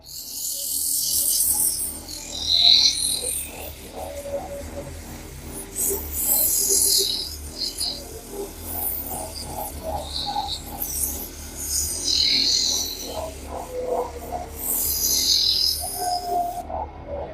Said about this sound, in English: we're going to start doing some sanding